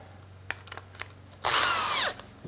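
80-grit garnet paper glued to a pad spins against wooden end grain, giving a loud, close, steady whirring rasp lasting under a second, after a few light knocks and handling sounds.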